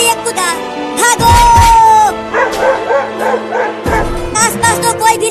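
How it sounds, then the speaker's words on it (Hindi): A dog barks and yips loudly in short bursts, with whimpers and howl-like cries mixed in, as a voice sounds intermittently alongside. "अरे ये कुत्ता भागो।"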